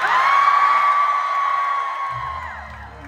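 A concert crowd at Brooklyn Bowl Las Vegas cheers for the opening band, a loud sustained roar of shouting and whooping that holds steady and then slowly fades.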